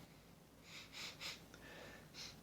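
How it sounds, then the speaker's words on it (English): A person takes several quick, close sniffs of cured resin pieces, the sharp nasal inhales coming in a short cluster and then once more after a brief pause, in a quiet room. "you can just hear me sniffing away"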